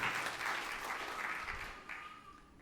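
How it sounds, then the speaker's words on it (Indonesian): A church congregation applauds during a sermon, with dense, even clapping that is steady at first and then thins and fades toward the end. "Tepuk tangan yang meriah untuk kemuliaan Tuhan."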